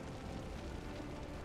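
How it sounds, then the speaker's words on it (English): Explosions in the video game Assassin's Creed Chronicles: Russia form a continuous loud, rumbling roar across the whole span, with no clear separate blasts standing out. "I can't see what's going on with these explosions."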